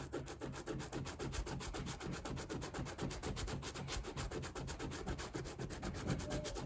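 A suede eraser rubbed back and forth over stains on Jordan 5 Raging Bulls suede sneakers, giving quick regular scrubbing strokes, close and fairly quiet.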